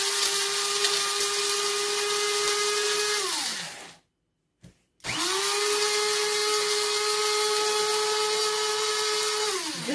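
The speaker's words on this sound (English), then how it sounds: "I'll just cover and grind." An electric spice grinder whirs loudly at a steady high pitch while grinding coriander, fennel and cardamom seeds with pink salt for homemade allspice seasoning, winding down, pausing briefly after a short blip, then starting again and running steadily with no talk.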